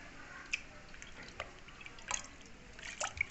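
Homemade cheese rinsed by hand in water: soft scattered drips and small splashes at a low level, with brief sharper trickles near the middle and end.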